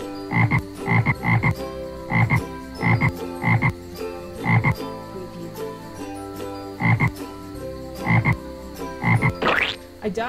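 A cartoon frog in a Visual Basic 6.0 arcade-style hopping game croaks over and over. The croaks come as loud, close, rhythmic bursts, often in quick pairs, with no talking.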